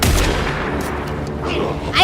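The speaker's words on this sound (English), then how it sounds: "I've shot him like 5 times." Gunshots in the video game Alan Wake II, one heavy booming blast with a rumbling tail that fades over two seconds, loud and close.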